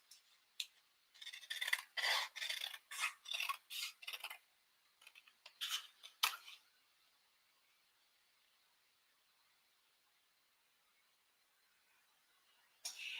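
A quick run of crisp snips from scissors, close up, in an irregular rhythm, then near silence with one last snip at the end.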